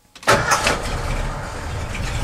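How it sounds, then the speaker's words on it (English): A Ford truck engine cranks briefly and catches, then settles into a rough, loud idle close to the microphone, with no voices over it. "Let's see if it has oil pressure. Let's start truck."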